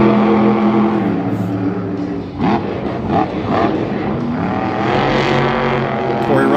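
Roaring engine of the Megalodon monster truck tearing around the track at Monster Jam Anaheim, loud and continuous with surging revs under the broad noise of a stadium crowd.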